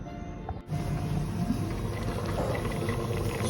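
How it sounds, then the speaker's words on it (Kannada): Chopped hybrid tomatoes cooking down into jam in a pot on the stove, a steady bubbling simmer heard close and continuous, with no voices over it. "ಬೇಯ್ತಾ ಇದೆ, ಆದರೂ ಇನ್ನು ಆ ನೀರೆಲ್ಲ ಇಂಗಬೇಕು. ಅಲ್ಲಿವರೆಗೂ ಇನ್ನು ಒಲೆ ಮೇಲಿಟ್ಟು ಕುದಿಸ್ಬೇಕು."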